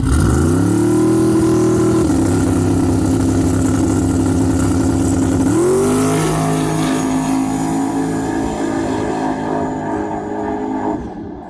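A drag race car makes a pass at Amarillo Dragway, its engine droning loud and close, with a sharp rise in pitch at each gear change before it fades slightly at the end.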